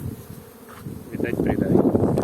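Honeybees hum at an open hive on a spring day after overnight rain, a dense close buzzing that swells louder toward the end, with a faint voice underneath.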